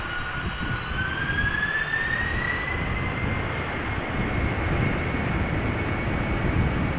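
A 31-year-old Boeing 747-400 freighter spooling up for takeoff at Amsterdam, its engines rising in a loud, close roar with a whining tone that climbs in pitch and then levels off, sustained over a heavy rumble.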